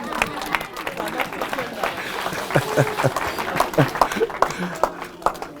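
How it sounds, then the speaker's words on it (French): A church congregation applauding and cheering to acclaim the Lord during a worship service, a steady wash of clapping and crowd noise with louder, sharper claps rising toward the end. "Acclamez le Seigneur."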